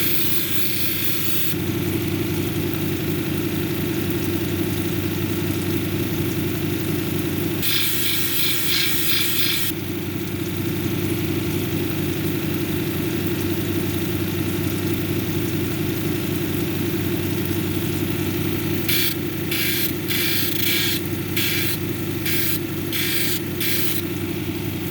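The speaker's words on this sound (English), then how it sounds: "We're gonna take the we're gonna cut the edges on the top of the girdle here." A green tree agate cabochon has its top edges cut on a lapidary machine with a steady motor hum, interrupted by a few bursts of gritty grinding and a quick series of short cutting contacts near the end.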